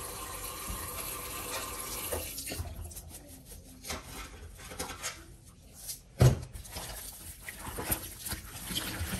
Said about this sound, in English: I'll be washing this meat one after the other